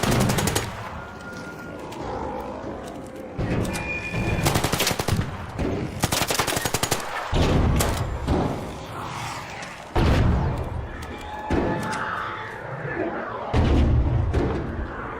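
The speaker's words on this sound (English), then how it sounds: "Why are we getting pummeled by bullets?" Heavy automatic gunfire in the video game Arc Raiders, dense bursts of loud rapid shots and thudding impacts rolling through the scene, broken by short pauses.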